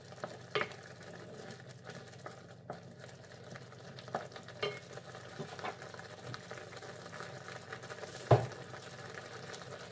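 Minced beef kefta mixture being stirred in a pan for tajine, a quiet continuous low sizzle with scattered soft spoon taps and one sharper knock near the end, no speech.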